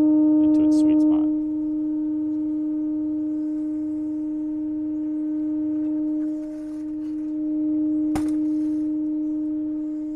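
Sine tone sweep played through a refurbished JBL 4343 speaker with newly installed drivers, a loud, pure sustained hum holding steady with slight swells, a few brief clicks and knocks near the start and a short sharp tap later.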